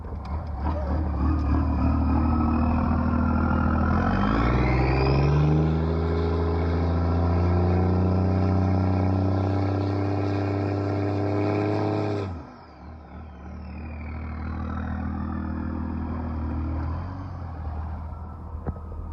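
Diesel truck with a VP44 injection pump and a manual-to-47RE swap, engine revving hard under boost with rising and falling surges, loud and close, then cutting off abruptly and settling back to a steady idle.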